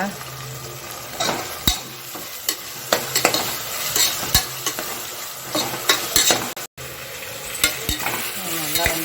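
Tomato and onion masala sautés in a pan with a steady sizzle, punctuated by repeated sharp spoon scrapes and knocks against the pan as it is stirred up close.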